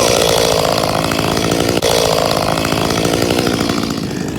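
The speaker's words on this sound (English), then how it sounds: "You guys seen us out there with our Echo chainsaw." An Echo CS-352 chainsaw with a 16-inch bar runs at a steady high-revving buzz, loud and close, holding one constant pitch for several seconds with a brief dip midway and no talk.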